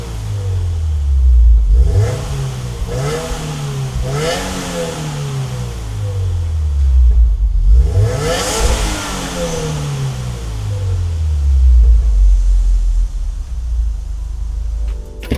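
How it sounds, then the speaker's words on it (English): A Subaru WRX with its stock OEM exhaust is revved repeatedly, loud and close, the engine note swelling and falling back several times before settling into a steady rumble. "here's a sound clip of the OEM stock exhaust"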